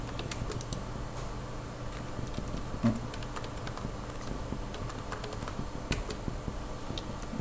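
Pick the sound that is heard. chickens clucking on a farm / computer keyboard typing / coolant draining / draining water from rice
computer keyboard typing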